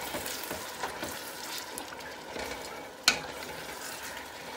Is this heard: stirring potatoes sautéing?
yes